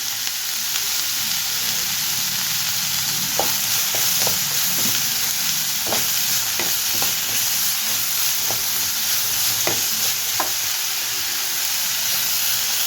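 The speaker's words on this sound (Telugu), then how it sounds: "ఎందుకంటే ఉల్లిపాయలు వేగుతాయి కాబట్టి." Sliced onions fry in a pan with a little salt for a tomato curry, giving a steady, even sizzle and hiss throughout, with occasional light clinks of a stirring spoon.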